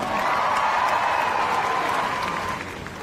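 Sustained, dense clapping and cheering from a big indoor audience at Crufts during an RAF display team performance, loud throughout before tapering off slightly at the close.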